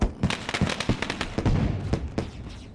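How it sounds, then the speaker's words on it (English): Fireworks burst over a dirt race track before a Pro Late Model main event, a rapid irregular volley of sharp cracks and pops, fairly close and loud, with no talking. "Those fireworks are pretty awesome."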